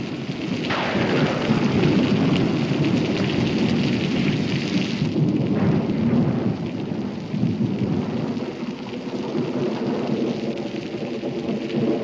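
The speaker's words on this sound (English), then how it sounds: "Major Howerton doesn't want to get caught when the storm lets loose" A thunderstorm rolls in over a frontier stable yard: heavy, steady rain pours down while deep thunder rumbles loudly near the start and again midway, with no voices.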